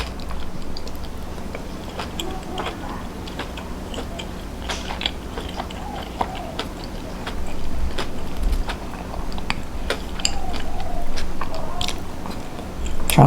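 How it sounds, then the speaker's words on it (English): Crispy roast duck skin is bitten and chewed close up, giving repeated sharp crackling crunches over a steady hum of a busy eatery, growing denser toward the end. "Hear that crunch, so good."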